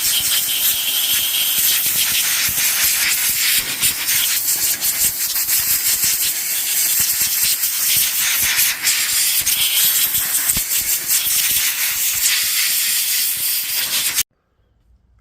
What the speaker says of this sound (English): if you're in a bit of a hurry, you can use the compressor again.